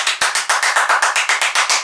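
Hand clapping as sarcastic applause, a single person's rapid, steady run of about fourteen sharp, close, loud claps with no voices.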